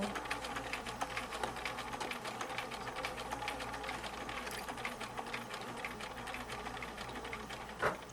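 A sewing machine stitches quilt fabric from a Hoffman Fabrics crystal kit in a rapid, even mechanical chatter that runs continuously for several seconds at moderate level, with a small knock near the end and no talking.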